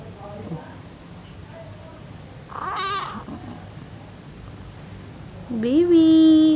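A pet cat in a home in Kuwait lets out a short, faint meow early on and another in the middle, then a loud, drawn-out meow near the end, all over a quiet room background.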